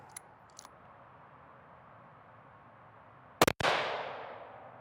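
A single loud rifle shot from a CVA Cascade rifle loaded with Hornady American Whitetail ammunition cracks sharply at a shooting range, followed by a long fading echo after a quiet stretch with a few faint clicks.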